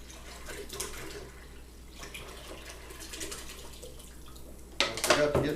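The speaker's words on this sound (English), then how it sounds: "go ahead and dump the rest of your water in" Water splashes and pours in short bursts as the rest of the water is dumped into frozen grape juice for homemade wine, with a louder, fuller gush near the end, heard close up and without any talking.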